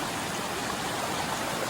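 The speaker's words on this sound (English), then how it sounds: "look at all that water flowing down from the mountain" A small mountain stream spills over mini waterfalls in a steady, even rush of water, constant and moderately quiet with no voices.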